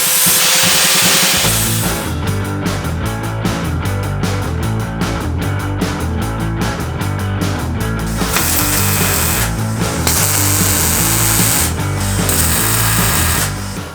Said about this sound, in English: We're gonna grind this off real quick.